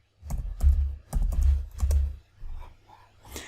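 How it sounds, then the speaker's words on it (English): Fingers type a word on a computer keyboard, giving a close, quick run of clattering key taps in short bursts with brief pauses between them. "So I'll type in crisis."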